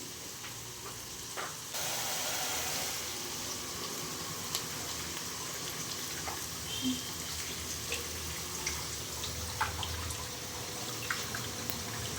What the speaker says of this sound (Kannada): ಈಗ ನೋಡಿ ಅಲ್ಲಿವರೆಗೂ ನಾನು ಅಕ್ಕಿ ತೊಳ್ಕೊಂಡ್ಬರ್ತೀನಿ